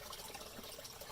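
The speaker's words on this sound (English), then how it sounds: "Water's draining to this T right here, and it goes into this container." Water drains steadily through the outflow pipe of a self-cleaning duck pond filter into a T fitting and a container, a continuous close trickling gush with no talk.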